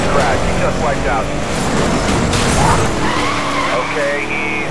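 Car skidding and crashing in Need for Speed Most Wanted (2012), with tire squeal and engine noise over a dense, loud racing mix, under police radio chatter.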